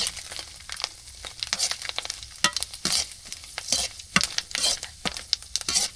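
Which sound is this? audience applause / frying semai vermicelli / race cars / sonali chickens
frying semai vermicelli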